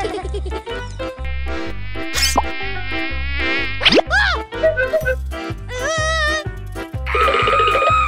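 Cartoon mosquito buzzing, whiny high tones rising and falling over a bouncy musical beat with a steady thumping pulse, loud and continuous with sparkling effects.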